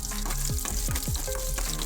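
Continuous close sizzling of garlic frying in oil for tempering, with a few low stirring scrapes underneath.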